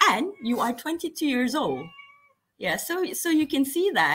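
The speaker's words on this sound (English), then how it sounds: "Oh, sorry, that's my cat." A house cat meows close by during an indoor interview, its cries mixing with a woman's speech and dropping out briefly before the talking resumes.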